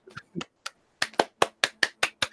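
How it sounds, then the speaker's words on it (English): Hand claps at the close of a live-streamed panel chat, about ten separate claps, sparse at first and then quicker and evenly spaced, close to the microphone against a silent background. "Round of applause."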